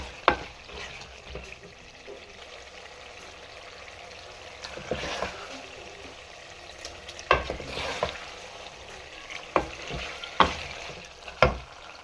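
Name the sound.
aloo anda matar curry cooking in a pan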